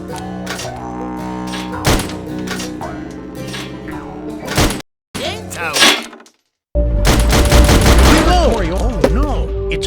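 Rapid bursts of gunfire in the Sam & Max VR video game, loud repeated shots in dense volleys broken by two brief silences, then a sustained roaring barrage with a whirring tone.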